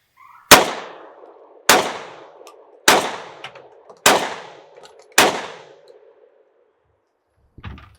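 Five sharp, loud shots from an old Benelli SL121 semi-automatic shotgun being test fired, evenly spaced about a second apart with ringing decay, then quiet and a faint clunk at the end.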